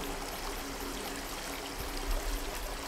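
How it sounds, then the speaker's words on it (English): A fresh mountain stream trickles over a rocky riverbed, a steady, close rush of running water that holds even throughout with no voices. "there's a beautiful stream trickling with fresh mountain water"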